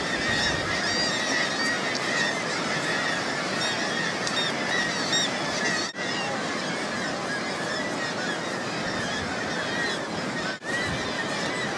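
A dense colony of kittiwake seabirds on Arctic cliffs calls continuously, a steady, loud chorus of overlapping shrill cries with no voices.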